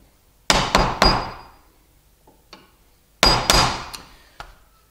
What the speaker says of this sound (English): Tap, tap on the top of the gouge like so